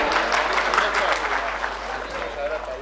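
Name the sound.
applause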